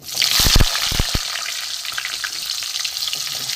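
Potato pieces hit hot oil with a few loud initial thumps, followed by a steady, bright sizzling and crackling of frying.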